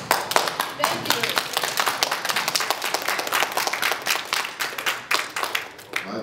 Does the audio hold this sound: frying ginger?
no